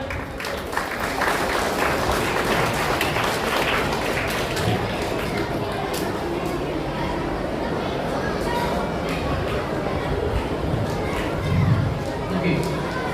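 At a chess tournament closing ceremony in Satna, a hall crowd applauds with a broad, continuous rush of clapping mixed with murmuring voices and chatter, sustained at a steady level throughout.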